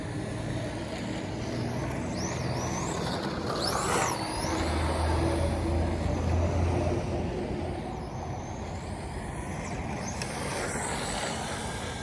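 A Team Associated Hoonitruck Apex 2 RC truck drives steadily, its electric motor giving a continuous whirring drone with faint tire and gear noise, at moderate distance with a few brief high squeals.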